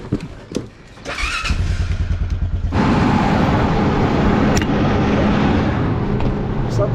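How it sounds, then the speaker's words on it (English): A four-wheeler ATV engine starts after a few thumps and settles into a loud, steady rumble, close by, as the ride begins. "Beautiful day for a four-wheeler ride."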